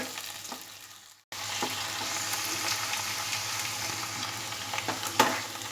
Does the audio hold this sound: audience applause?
no